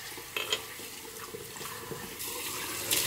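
Cold water runs from a tap, a close, moderately loud splashing stream with a few brief knocks and clatters, and the flow grows stronger near the end.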